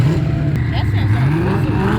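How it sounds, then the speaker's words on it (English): A turbocharged dune vehicle's engine revving at the Glamis sand dunes, a loud nearby droning roar with rising and falling pitch sweeps, while people talk over it. "That's a super turbocharger."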